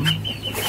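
Chickens kept at a village home in Demak, Indonesia, giving a couple of short clucks close by against a quiet background.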